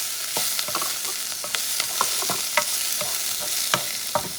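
Garlic sizzles in a hot pan while a spoon stirs it, giving steady frying crackle punctuated by sharp scraping and clinking taps, close up with no talking.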